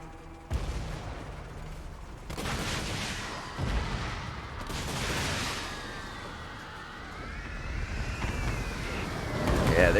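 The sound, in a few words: cannon and rocket battery fire in Total War: Warhammer 2 video game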